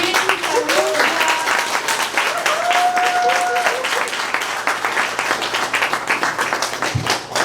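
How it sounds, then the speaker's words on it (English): Audience applause at a book launch event, dense and steady throughout, with a few tonal sounds, likely cheers or whistles, rising briefly above it. "With a round of applause, let us bring our sister, Irene."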